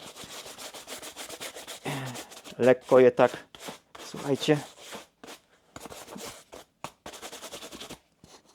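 Rapid scratchy brushing strokes rub dust off shoes, coming in bursts between and under a person talking quietly.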